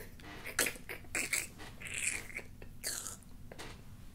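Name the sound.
mouth imitation of crunching fried food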